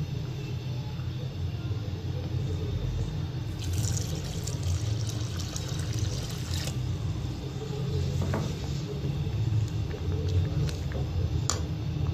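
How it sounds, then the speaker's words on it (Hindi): A mug of water is poured into a pot of palak dal, giving a steady, close liquid rush and gurgle with a low rumble that continues for the whole stretch, alone without talk. "अब मैं इसके अंदर 1 मग पानी ऐड करूंगी।"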